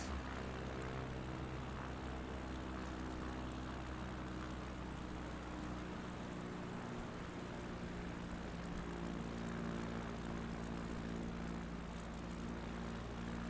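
A propeller-driven bush plane drones steadily in flight over Finland's lake country, its engine a loud, continuous, close hum with no breaks and no talking.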